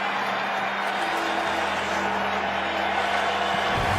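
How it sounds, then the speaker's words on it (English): NFL stadium crowd roaring during a game, a broad steady wash of massed voices held at an even level for the whole stretch, with no distinct individual sounds standing out. "And this crowd is roaring today."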